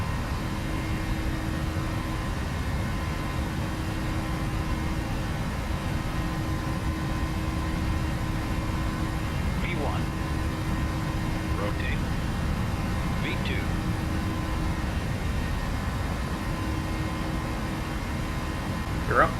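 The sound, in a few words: Boeing 737 jet engines at takeoff thrust, Prepar3D flight simulator video game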